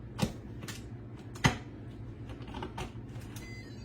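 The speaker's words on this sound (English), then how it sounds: "I'm going to put the lid on." A lid goes onto a jam maker with a few hard clicks and knocks: two sharp taps near the start, then softer clatters, close and fairly quiet.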